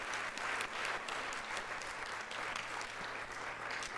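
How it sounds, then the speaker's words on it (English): Sustained applause from a conference panel audience, steady clapping throughout with no voices over it. "Round of applause."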